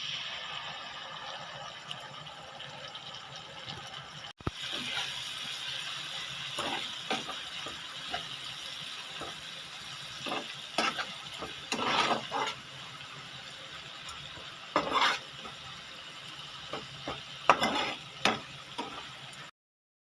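Mustard paste added to onions frying in a pan, cooking spicy puti fish in oil, giving a steady broadband sizzle with intermittent scraping stir strokes and clinks over roughly twenty seconds, no voices.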